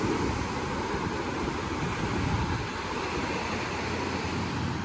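Ocean waves break and wash up a beach in a dense, continuous roar of surf, close and steady with wind buffeting the microphone, and no voices over it.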